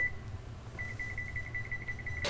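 Kitchen timer being set, giving a thin high electronic beep tone that starts briefly, then holds as a steady pulsing tone before stopping, over a low room hum.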